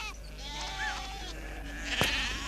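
Sheep bleat in a yard where a six-week-old puppy is working them for the first time, a few short wavering calls at middle distance over low background noise, with a sharp knock near the end.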